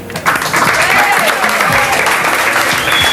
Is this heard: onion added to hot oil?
no